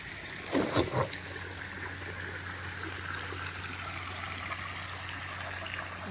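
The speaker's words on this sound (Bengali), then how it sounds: "এই হচ্ছে জল" Water flows steadily at a resort, a constant rushing wash at moderate level, with a brief louder splash or knock near the start and no voices.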